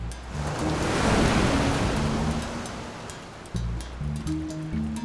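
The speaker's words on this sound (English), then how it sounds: "heading to the water's edge, where the tastiest morsels can be found. To avoid being swept away, he must keep his eyes on the waves" Ocean waves breaking at the water's edge on a shoreline, a steady loud rushing surge that swells and fades, then more washing water returns, heard alone under a faint musical score.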